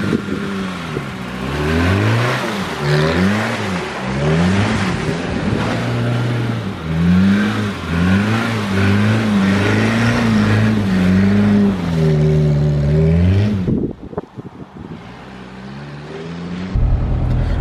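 Suzuki Samurai engine revving repeatedly while driving, loud and close, with rising and falling pitch in steady waves before easing off near the end; no talking.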